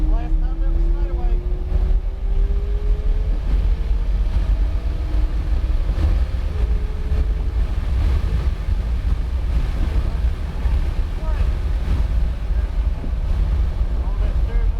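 A McLaren sports car accelerating hard down a track straightaway toward 145 mph, its engine note climbing steadily under heavy wind rush, while someone talks over it.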